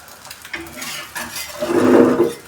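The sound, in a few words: omelette frying in oil, being turned in the pan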